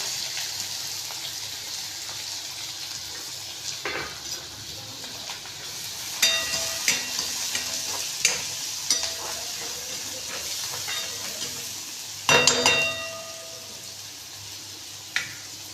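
Onion frying in a pan with mustard seeds, cumin and garlic for aloo paratha filling: a steady sizzle runs throughout, with sharp crackles and pops flaring up now and then, loudest near the end.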